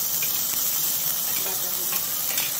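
Garlic paste frying in hot oil in a home kitchen gives a steady, close, bright hiss and sizzle that holds evenly throughout with no break.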